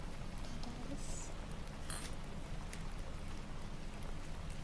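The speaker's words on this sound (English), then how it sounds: "I love the sound of the rain." Steady rain falls as a soft, even patter throughout, with a few faint light taps on top and nothing else standing out.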